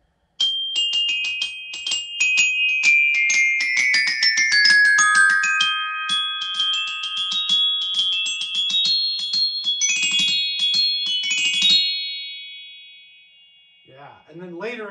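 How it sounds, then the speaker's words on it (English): Glockenspiel playing a quick passage from The Sorcerer's Apprentice by Paul Dukas, bright ringing metallic notes struck in fast runs with sustained overtones, close and loud, fading out before a brief voice at the end. "Another work for glockenspiel that's really fun for us percussionists is called The Sorcerer's Apprentice."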